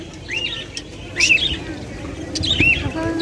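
Pigeons at a commercial pigeon farm make repeated chirping and squawking calls in short bursts, fairly close, over a steady low background hum.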